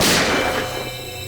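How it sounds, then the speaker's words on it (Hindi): A single gunshot cracks out sharply, then its echo and ringing tail fade over about a second, loud and alone in a tense scene from a TV crime drama. "सर, गोली चलने की आवाज?"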